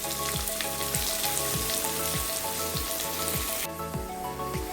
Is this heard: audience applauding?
no